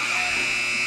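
An end-of-third-quarter buzzer at a girls' varsity high school basketball game, Pendleton Heights vs Yorktown, sounds as one steady, loud electronic buzz lasting the whole moment, with crowd voices murmuring underneath.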